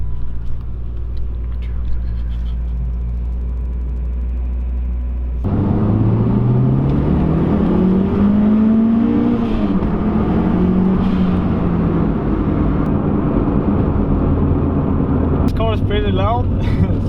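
At a summer car meet, a loud car engine idles with a deep rumble, then revs up and down in sweeping pitch, close and dominant, with people talking nearby.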